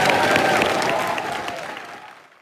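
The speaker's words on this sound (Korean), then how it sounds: "박수 부탁드립니다" A studio audience applauds a politician on a Korean weekend news talk show. The applause is a dense, steady wash of many hands that gradually fades to silence.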